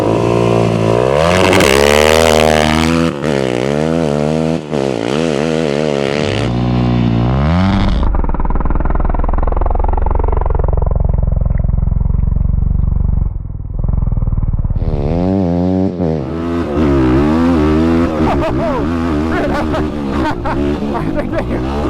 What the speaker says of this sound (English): now we are going to try our little second gear launch in the sand here